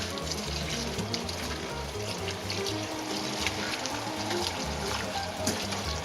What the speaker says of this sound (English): put it in a strainer, and give it a rinse